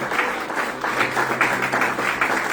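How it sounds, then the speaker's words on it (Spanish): A church congregation giving a round of applause during a service, brief dense clapping in pulsing waves that stays fairly loud from start to finish. "Da un fuerte aplauso al Señor"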